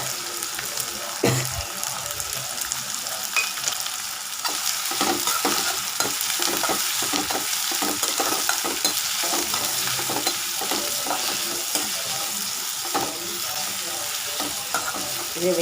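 Onions, crushed garlic and curry leaves sauté in a pan, giving a steady close sizzle with frequent scraping and tapping from a stirring spatula throughout.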